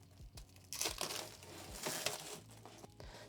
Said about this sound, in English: let's go ahead and peel off this protective plastic here